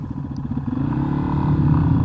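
Yamaha XT250 motorcycle engine idling rough with a rattling clatter, a close, loud, uneven chug that gradually builds.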